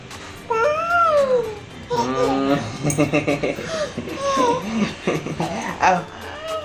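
A young child's high, sing-song voice imitates a cat with meow-like cries, drawn-out wavering calls with an adult voice and soft chuckles around them.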